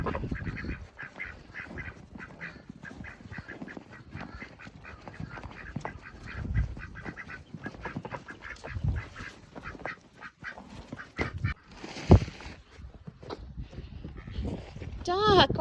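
Ducks quack in scattered bursts outdoors in cold, snowy blizzard weather, mixing with honking fowl calls while a person talks over them and coaxes the birds along.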